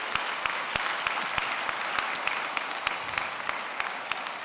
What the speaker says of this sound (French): Acclamez le Seigneur pour cet homme de Dieu.